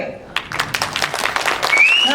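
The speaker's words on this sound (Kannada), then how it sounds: "ಜೋರ ಜೋರ ಚಪ್ಪಾಳೆ ಬರ್ಬೇಕು" An audience at a Kannada film audio launch event claps and cheers, a dense burst of applause building loudly over a couple of seconds, with a voice over it.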